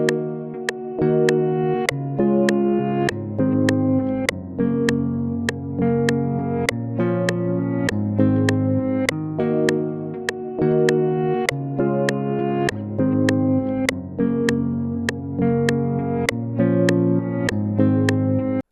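Sustained ambient synth chords from the Pigments plugin's "Ambient by Timbra" preset, in an Afrobeats track built in FL Studio, play over a steady pulse of sharp rhythmic clicks that repeat evenly throughout, with no talking.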